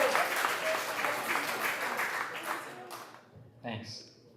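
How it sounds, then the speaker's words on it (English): Wedding guests at The Addison of Boca Raton applaud in a dense, steady wash of clapping that fades out near the end, followed by a brief voice. "Give him a big round of applause."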